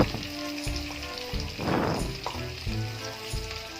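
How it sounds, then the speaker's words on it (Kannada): Brinjal pieces frying in hot oil, a steady sizzle with bursts of louder crackling, close and alone without talk. "ಎಣ್ಣೆಯಲ್ಲೇ ಇದನ್ನು ಸ್ವಲ್ಪ ಹೊತ್ತು ಫ್ರೈ ಮಾಡಬೇಕು."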